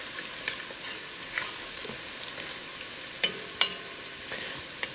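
Garlic browning in a hot pot gives a faint, even sizzle with a few soft ticks and light scrapes scattered through it, heard close up with no one speaking.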